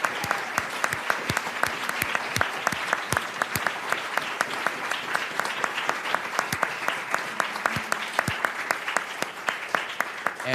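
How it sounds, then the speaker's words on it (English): Sustained round of applause from an audience standing at a bipartisan policy briefing, dense steady clapping throughout with no speech over it. "I'd like all of you to please stand so we can give you another round of applause."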